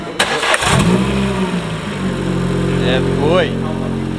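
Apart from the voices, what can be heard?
track car engine starting up after rebuild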